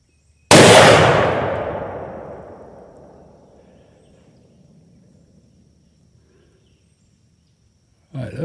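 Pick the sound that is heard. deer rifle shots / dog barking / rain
deer rifle shots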